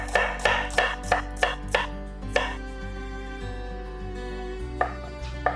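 An onion is finely sliced with a knife on a board, giving a run of quick, crisp chops, then a pause and a few more cuts, close and clear with no talk.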